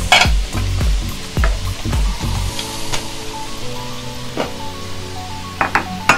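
Potatoes fry in a hot pan, and a steady sizzle runs under stirring and scraping. Utensils clink against the pan in several sharp knocks, and no one speaks.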